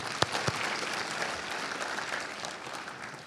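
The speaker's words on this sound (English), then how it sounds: "can we just have a round of applause for all of the organizers, staff, volunteers who've made this event possible?" A convention crowd applauds the organizers, staff and volunteers, a steady spread of many clapping hands at moderate volume, with a couple of sharp, close claps near the start.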